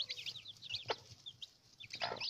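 Pekin bantam chickens and chicks cluck and peep in short, faint bursts, with a few sharper calls standing out against a quiet background.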